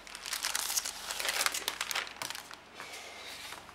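Close, crisp crinkling of thin glitter paper sheets being handled, bursts of rustling that ease off toward the end.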